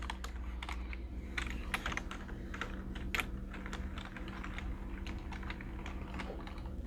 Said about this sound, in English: Next, I'm going to wipe my keyboard down.